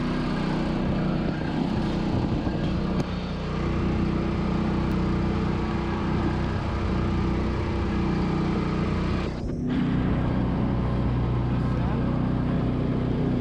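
A portable generator runs steadily and loud close by, a constant engine drone with a brief dip near the end, while people talk over it.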